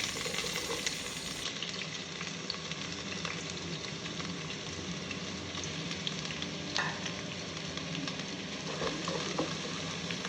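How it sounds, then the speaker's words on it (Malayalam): Sliced onion frying in hot coconut oil, a steady broadband sizzle that holds evenly for the whole stretch with faint crackles and occasional stirring scrapes, close and continuous with no voices. "ഇപ്പോൾ ഏകദേശം എണ്ണയൊക്കെ ഒന്ന് ചൂടായിട്ടുണ്ട് ഇതിലേക്ക് നമുക്ക് ചെറിയ സ്ലൈസാക്കി വെച്ചിരിക്കുന്ന സവാള ചേർത്ത് കൊടുക്കാം"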